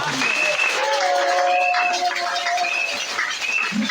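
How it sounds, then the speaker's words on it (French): A congregation applauds at a Sunday church service, a steady, full wash of clapping that lasts throughout, with faint sustained tones above it. "Est-ce qu'on peut acclamer le Seigneur Jésus?"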